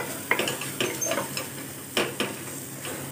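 Masala being sautéed for a vegetable kuzhambu, with a spoon scraping through it in short repeated strokes over a low, even sizzle in a pan nearby.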